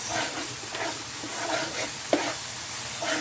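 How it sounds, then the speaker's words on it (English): Tomato and onion masala stirred in a hot pan for Bombay duck fish curry, a steady soft sizzle with scraping strokes of the spoon recurring every half second or so, one sharper clack near the end, no talk. "Keep on stirring it so that the tomato and onions don't stick to the base."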